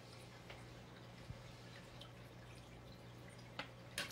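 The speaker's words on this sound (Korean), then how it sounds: "물소리 듣기 좋죠?" Quiet water drips and trickles softly, with a low steady hum beneath and a few sharper splashes near the end.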